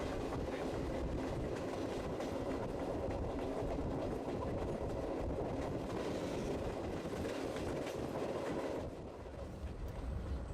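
Steady, loud rumble of a train rolling along the rails with rhythmic clatter, continuous throughout and easing slightly near the end.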